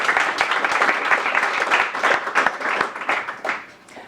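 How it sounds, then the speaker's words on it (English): An audience applauds at a talk on decentralized finance, a dense run of quick hand claps from a modest crowd that gradually thins and fades out. "Can we give these guys a little round of applause?"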